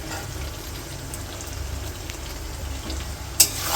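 Tomatoes go into a wok of sizzling mutton masala, a steady soft frying hiss with faint stirring, a brief sharp clink near the end, no voices.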